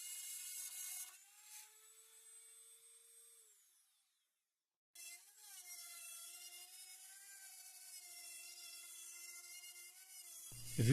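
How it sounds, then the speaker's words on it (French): A router bit with a plastic guide ring trims plexiglass along the edge of a wooden board, giving a steady high whine that cuts out briefly and then resumes as a continuous close cutting drone. "la bague plastique suit bien le bord de la planche et que la fraise découpe le plexi"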